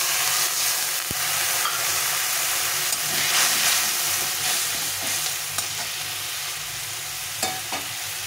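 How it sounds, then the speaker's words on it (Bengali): Fish masala with salt, turmeric and a little water is stir-fried in a pan, producing a continuous loud sizzle with scattered scraping strokes and a few sharp clinks of the spoon against the pan, with no speech. "স্বাদ মতো লবণ, পরিমাণ মতো হলুদ গুঁড়ো দিয়ে আবার একটু জল দিয়ে এটাকে ভালো করে কষিয়ে দেবো।"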